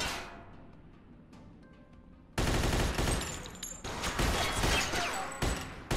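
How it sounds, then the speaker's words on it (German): Rapid automatic gunfire in Mafia 2 as an enemy is shot, a quiet lead-in followed by loud, dense bursts of shots close up with brief pauses between volleys. "Knall den Wichser ab, solange wir noch Kugeln haben"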